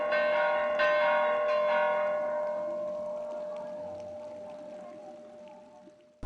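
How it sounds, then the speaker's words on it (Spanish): Church bells ring out together for a major church festival, with two or three loud strikes early on whose rich, humming tones hang and slowly fade into a long resonant decay. "suenan todas las campanas como señal de"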